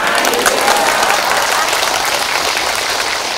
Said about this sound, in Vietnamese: cho tràng pháo tay.